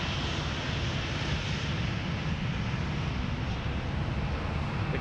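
A jet airliner roars past at Sydney Airport, a steady broadband rumble that holds loud and close through the whole stretch with no talk over it.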